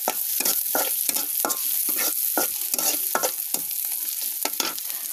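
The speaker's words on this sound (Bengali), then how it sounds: "কড়াইয়ে তেল দিয়ে পেঁয়াজ দিয়েছি," Onions fry in oil in a kadai over a clay stove, giving a steady bright sizzle broken by rhythmic scraping stirs roughly every half second, with no voices.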